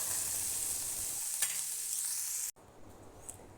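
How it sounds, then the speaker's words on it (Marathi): Cumin and mustard seeds spluttering in hot oil in a pot, a continuous hissing sizzle with a few sharp pops, cutting off abruptly partway through, with quieter frying after. "आता आपण एका पातेल्यामध्ये तेल टाकून घेतलं आणि त्यामध्ये जिरे मोहरी टाकले जिरे मोहरी छान तडतडली"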